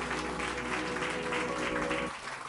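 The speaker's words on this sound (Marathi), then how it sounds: "जरा जोरदार टाळ्या प्रभूच्या गौरवासाठी." Vigorous congregational applause at a Christian church service, a dense, continuous clapping roar that eases off slightly at the end.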